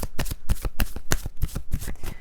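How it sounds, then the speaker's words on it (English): A deck of Romance Angel Oracle cards is shuffled by hand up close, giving a steady run of quick, crisp riffling slaps repeated in a regular rhythm. "I'm going to take a couple of Romance Angel Oracle cards for this."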